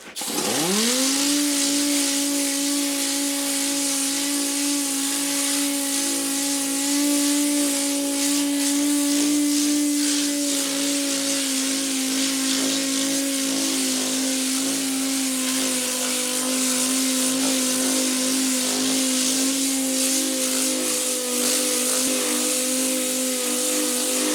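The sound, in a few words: air-powered 6-inch DA sander with 80 grit sandpaper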